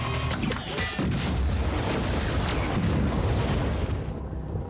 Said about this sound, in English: with a single shot hits the fuel truck parked at the base. The explosion is colossal